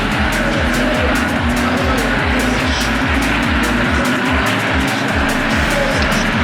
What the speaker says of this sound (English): starting off the day with a formation lap with Ferrari Challenge, race number 2